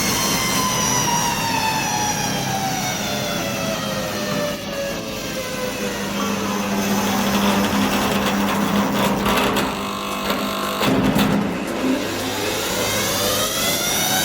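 A 12-frame honey extractor runs with its electric motor spinning the drum, a steady loud mechanical whir whose pitch climbs and shifts as the speed changes, with no talking.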